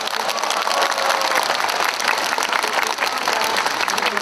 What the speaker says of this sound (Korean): 여러분들 환영의 박수 한번 보내십시오.